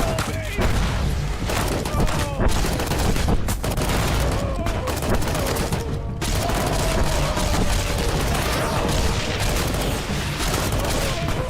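Fallout New Vegas gunfire at a Legion outpost rattles in dense, loud volleys, with rapid shots and booms almost nonstop. Someone talks quietly underneath.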